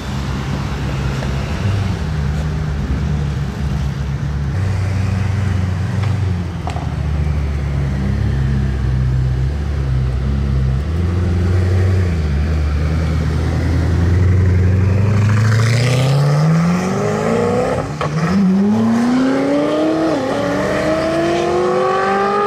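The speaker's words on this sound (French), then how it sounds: "Deux Koenigsegg, la One One et la Jesko de Carena Lima." Two Koenigsegg hypercars, a One:1 and a Jesko, pass in Monaco with a loud, steady engine rumble that builds into a hard acceleration, the rising revs sweeping upward in pitch as they pull away.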